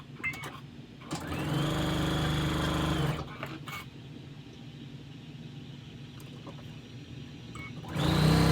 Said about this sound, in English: So now we are going to sew this quadrant to this quadrant